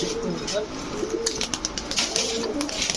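Rajshahi Sabji Giribaj high-flyer pigeons, male and female, coo repeatedly in low murmuring phrases, with a hiss of higher chatter and someone talking over them.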